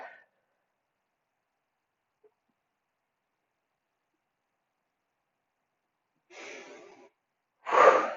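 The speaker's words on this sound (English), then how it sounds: "Inhale and hold. Exhale." Two breaths in a guided breathing exercise, a soft drawn inhale after long silence followed by a louder, forceful exhale close to the microphone.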